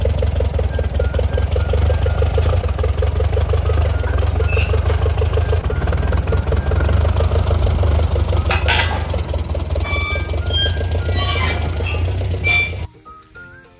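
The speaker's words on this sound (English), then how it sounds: "Check out this beauty. 1952 Case tractor." A 1952 Case tractor engine idles steadily nearby with a low, rhythmic chugging throb, joined by some clattering toward the end before it cuts off abruptly.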